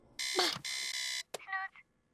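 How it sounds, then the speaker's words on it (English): A loud electronic alarm rings in long steady bursts, then a shorter, higher chiming tone follows before it cuts off. "the alarm that went off looks and sounds like BMO"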